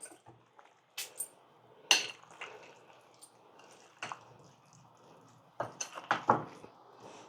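Indian gooseberry (amla) pickle stirred in a bowl: quiet, intermittent wet squelches and a few sharp utensil clinks against the dish, with scattered pauses and no talking.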